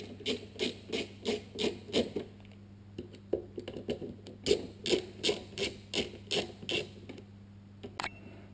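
Tiny T10 Torx screws being backed out of a Holden Commodore VR/VS instrument cluster: a close, even series of small ticking, creaking clicks in two rhythmic runs separated by a brief pause, with no voices.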